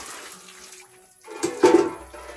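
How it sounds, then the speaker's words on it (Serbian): Cold water is splashed over a person just out of a Russian banya sauna, a short close burst of pouring and splashing after a quieter, muffled stretch, with no speech. "i sad izlazim i bacim hladnu vodu na sebe"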